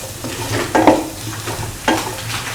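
A spoon stirs turmeric and salt through sizzling food in a frying pan, two scraping strokes over a steady close sizzle.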